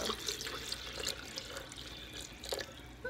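One cup of water pours steadily into a blender for a lemon smoothie, a close, continuous splashing trickle with small bright drips throughout and no voices.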